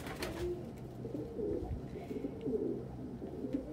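Pigeons coo in an evening loft, a steady overlapping murmur of low throaty calls running throughout, fairly close, with no voices.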